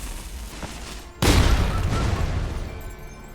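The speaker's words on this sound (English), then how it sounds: "to deal with these lotus priests, we can use the cannons to kill 2 of them" Single heavy cannon blast in the game Wuchang: Fallen Feathers, a sudden loud boom that bursts out and rolls into a long rumbling decay, with no talk over it.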